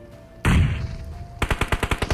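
Gunfire in a battle royale shooter during a match: one loud close shot or short burst, then a rapid rhythmic string of about eight automatic rounds, with no talking over it.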